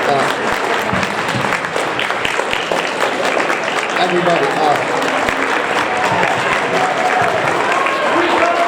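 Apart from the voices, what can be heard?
standing applause from an audience at an awards ceremony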